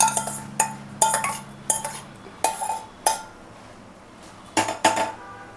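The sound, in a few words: mixing tempering into dal in a pot with a spoon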